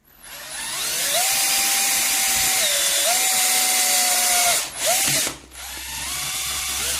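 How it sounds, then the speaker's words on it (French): Drill boring the start of a hole with a step cone bit for a homemade portable air blower, a close whining motor that rises and dips in pitch, briefly stops, then spins down. "je perce juste le début"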